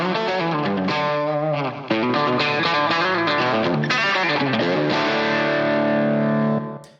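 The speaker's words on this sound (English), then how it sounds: "here's what this lead guitar sounds like" Distorted electric lead guitar plays a sustained melodic line with trailing echoes and a spacious, reverberant tail, alone and loud.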